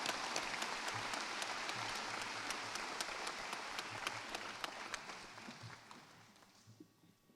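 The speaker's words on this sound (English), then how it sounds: "Big round of applause for Dr." Applause for a graduate at a college graduation ceremony: a crowd claps steadily from a distance, then the clapping slowly thins and fades away.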